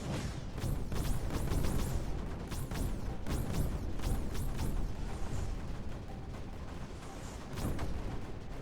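Repeated cannon fire from the Creeper World 4 strategy game: a dense stream of sharp, overlapping bursts and crackles, loud and close, with many shots in quick irregular succession over a constant low rumble.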